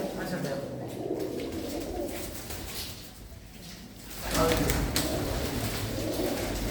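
Pigeons in a fancier's loft coo softly at a distance while someone talks over them, with a louder rustle of birds toward the end.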